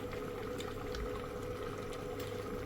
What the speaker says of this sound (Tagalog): Ayan, kulong-kulo na.